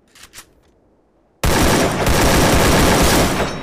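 Sustained burst of gunfire in the Free Fire battle royale game, a dense continuous fusillade that starts abruptly after a faint quiet lead-in and stays loud and close to the end.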